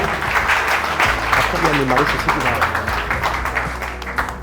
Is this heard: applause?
yes